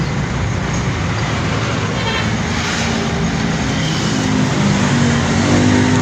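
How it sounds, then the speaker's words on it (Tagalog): Dense road traffic in Batangas and Laguna, many cars and buses rumbling steadily with faint horn toots mixed into the constant roadway noise. "talagang marami nang sasakyan ng Batangas, Laguna, nagtatraffic na"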